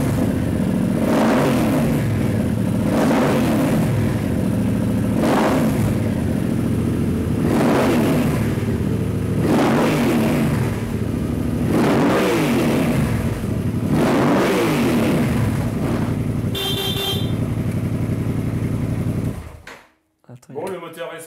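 Modified motorcycle engine revved repeatedly, about seven rising and falling throttle blips in steady rhythm, loud and close, then cut off near the end.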